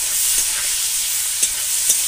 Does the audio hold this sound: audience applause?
no